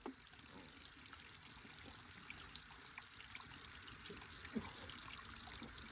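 Mountain water trickling from a pipe beside the Velliangiri hill trail, a steady faint dribble and splash running throughout with no talk.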